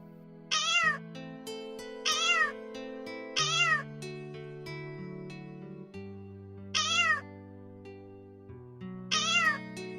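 A kitten meows in a children's stage play about a kitten searching for its mother. Five clear, separate meows come at uneven intervals over sustained background music.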